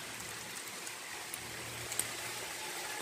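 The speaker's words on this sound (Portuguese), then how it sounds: "E a chuva chegou." Steady rain hiss outdoors at a rural farm plot, soft and even, with a few faint drop ticks and no voices.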